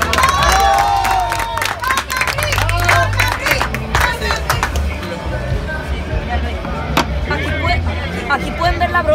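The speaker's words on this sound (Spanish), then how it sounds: "Un aplauso para ustedes." A crowd at an outdoor carne asada rock and grill festival applauds and cheers, loud mixed clapping, whoops and chatter with a rumbling low background.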